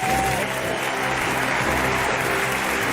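Audience applause welcoming Jean Messiha at the Anti Flics d'Or ceremony, a dense continuous clapping from a sizeable crowd at a steady loud level throughout.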